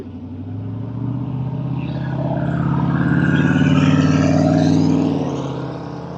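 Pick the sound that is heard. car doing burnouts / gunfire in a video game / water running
car doing burnouts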